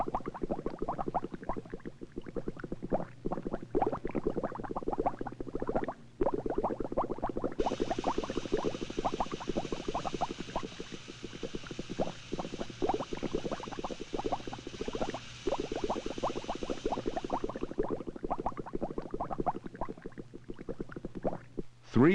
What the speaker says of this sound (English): Now we increase the atmospheric pressure over the boiling water.